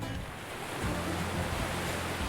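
Pacific Ocean surf breaks along a rugged Northern California coastline, a broad steady wash of rushing water with a low swell building midway, with no voices.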